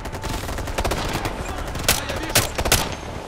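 Machine gun fire from a squad battle in the video game Ghost Recon Future Soldier, with rapid bursts and several loud, sharp shots standing out over the ongoing firefight.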